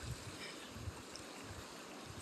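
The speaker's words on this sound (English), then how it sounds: "The stream is pristine," Clear freshwater stream flowing along a river near a home in Germany, a soft continuous gurgling and rushing wash, steady and fairly quiet, with no voices.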